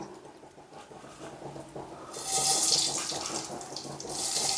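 Mustard seeds dropped into a spoonful of hot coconut oil, which turns into a loud, steady hissing sizzle about halfway through after a quieter start.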